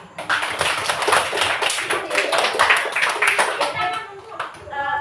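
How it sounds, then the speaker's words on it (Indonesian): A third-grade class claps together in an Indonesian classroom, rapid rhythmic hand clapping from many children, loud and continuous, with children's voices calling out over it before the clapping thins at the end. "Beri tepuk tangan."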